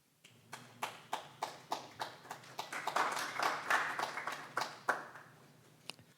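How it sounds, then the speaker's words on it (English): A small audience at a poetry reading gives a smattering of applause: a few separate, sharp hand claps that swell briefly into denser clapping, then trail off into scattered last claps. "Thank you for that smattering of applause."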